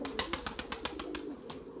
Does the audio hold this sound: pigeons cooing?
yes